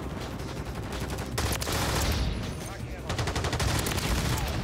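Rapid AMR9 gunfire in Call of Duty MW3 ranked play, sustained bursts of shots running almost the whole way with a brief lull near the middle, loud and close.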